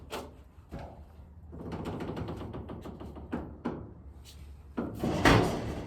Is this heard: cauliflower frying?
no